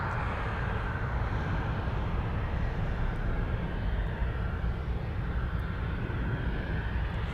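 A jet aircraft arriving at Anchorage airport gives a steady, broad engine roar that holds even in loudness for the whole stretch, heard alone with no voices.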